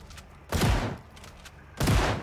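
Two heavy, booming bursts of gunfire in Project Zomboid, a zombie survival video game, each a loud thudding shot with a rumbling tail, spaced just over a second apart with no talk.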